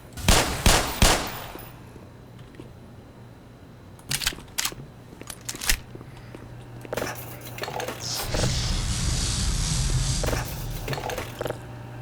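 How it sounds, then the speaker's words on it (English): Handgun emptied in the game Black Mesa, a rapid string of sharp, loud shots in bursts with short pauses between, followed by clicks and a sustained rushing mechanical hum. "So I'm going to let this handgun run all the way out to demonstrate that."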